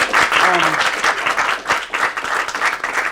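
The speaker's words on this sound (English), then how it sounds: "Let's go ahead and give them another hand." An audience claps at a Diwali community event, a brief round of dense applause with uneven bursts over about three seconds, and voices are faintly mixed in.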